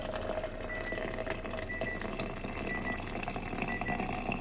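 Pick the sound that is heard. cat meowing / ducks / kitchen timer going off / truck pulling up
kitchen timer going off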